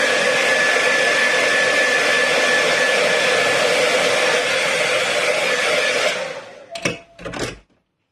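Hair dryer blowing steadily on paint on handmade craft tags, a loud continuous whir that cuts off near the end, followed by a couple of brief bursts as it is switched on and off.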